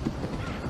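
Horse trotting with a steady clip-clop of hooves in a short, busy outdoor scene from a 1989 Brazilian film, the hoof beats close and moderately loud over background noise.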